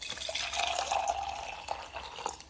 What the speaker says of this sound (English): Yeah, that's hot water. The second one's hot.